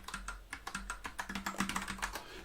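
Quick, close keystrokes on a computer keyboard as numbers are typed, in a steady and slightly uneven run of clicks with no talking over them.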